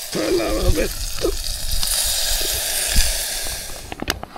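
Water with fish soup ingredients (dill, fish stock cube, black pepper, dried fish) bubbles and hisses as it comes to a boil in a camp pot outdoors, a steady close sizzle with a few clinks near the end.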